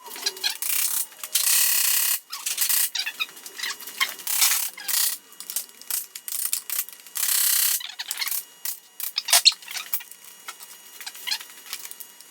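A ratchet wrench with an E-socket works rusty nuts off a Ram truck, its rapid clicking in repeated bursts with brief pauses between strokes, close and fairly loud, no voices.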